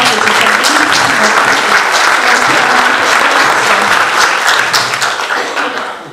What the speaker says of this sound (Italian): Un applauso, ci sarà benissimo.